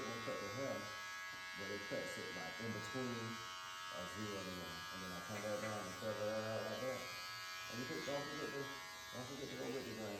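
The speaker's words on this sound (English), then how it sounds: "go back to my open clipper to do what I call fine cleaning of the blade" An electric hair clipper with its guard removed hums with a steady, even buzz during barber blade cleaning, running continuously beneath a person talking.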